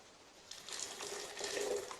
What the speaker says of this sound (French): Je vais re-rincer mon thé vert avec de l'eau.